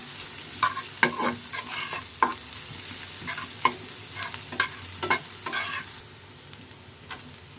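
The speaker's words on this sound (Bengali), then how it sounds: "পেঁয়াজ কুচি হাফ কাপ দিয়ে তেলের মধ্যে ভাজতে থাকলাম" Half a cup of chopped onions fries in oil with a constant crackling sizzle, punctuated by brisk scraping and tapping strokes as they are stirred, close up with no voices.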